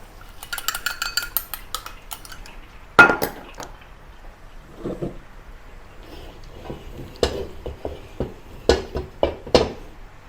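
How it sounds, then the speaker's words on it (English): Eggs poured into a hot wok over garlic fried until slightly brown, with metal spatula clanks and scraping, a busy clatter early on, then sharp knocks and sizzling stirs through the rest, no talking. "Now add the beaten eggs."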